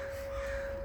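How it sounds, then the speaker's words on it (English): Crows cawing outdoors during a workout, a short burst of harsh calls heard at moderate distance against a steady background hum. "Crows are going crazy."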